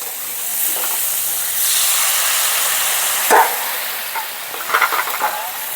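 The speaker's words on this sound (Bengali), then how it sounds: "আমি দিয়ে দিচ্ছি এমনি জল" Water splashed into a hot pan of lightly fried star fruit for a chutney, bursting into a loud hiss and steady sizzle, with brief clatter of stirring and spluttering toward the end.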